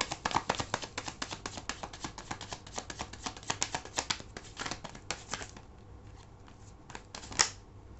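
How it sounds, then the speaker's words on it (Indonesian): Tarot cards are shuffled in rapid crisp riffling bursts for several seconds, then slower individual card slides and taps as cards are drawn, close and clear. "aku akan langsung ambil 5 kartu untuk melihat bagaimana perasaan dia terhadap kamu"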